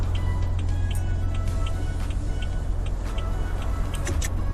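Hazard lights clicking on a car in a vehicle game, a regular series of soft ticks over a constant low engine idle hum.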